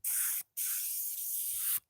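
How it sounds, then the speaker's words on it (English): Tire dressing hisses from a spray bottle onto a car wheel in two close bursts, a short one followed by a longer steady spray, with quiet between them. "They spray the wheel with their tire dressing,"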